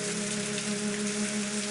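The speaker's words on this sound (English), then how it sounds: "Just a drizzle." A light rain drizzle patters steadily in the Agatha Christie: And Then There Were None video game, a soft continuous hiss of drops with a low tonal hum beneath, no voices.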